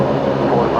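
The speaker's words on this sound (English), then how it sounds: "I've got a Link Airways sub coming into the bay here." A Link Airways turboprop taxiing into its bay at Brisbane Airport gives a loud, steady engine drone close by, heard for under a second.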